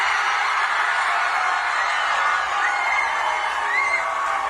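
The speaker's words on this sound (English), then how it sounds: "That sounds like a big crowd of beautiful people" A big political rally crowd cheers and roars in a continuous wash of voices, sounding thin and narrow as if heard through a phone line, with occasional whoops rising above the din.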